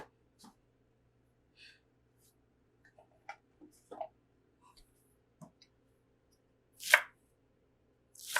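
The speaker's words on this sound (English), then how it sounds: "So we are dicing up some shallots." A knife dices shallots on a board at a cooking workshop for an African yam and cocoyam leaf stew, giving scattered, faint chopping taps with quiet gaps between them.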